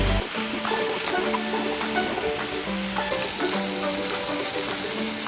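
Fried soybeans stirred in a hot pan for soya chili, a continuous loud sizzle with scraping stir strokes over a faint tonal drone in the background.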